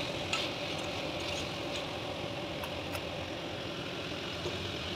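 Eggplant being stirred and fried in oil with sesame spice paste in a pan, a steady soft sizzle with light scraping and clinking of the stirring utensil, no talk.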